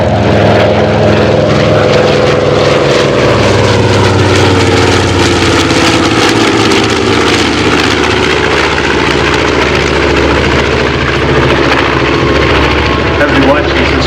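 A Consolidated PB4Y-2 Privateer, the Navy version of the B-24 Liberator, flies with its piston engines droning loudly and steadily throughout, a dense continuous roar of engine and propeller noise with no break.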